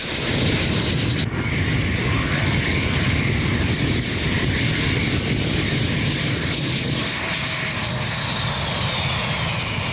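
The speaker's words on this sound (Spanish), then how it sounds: "se presentan los aviones de primera línea de la aviación rusa" Russian front-line military aircraft fly overhead at an air base in Crimea, a loud continuous engine roar with a steady high whine running through it, close and unbroken.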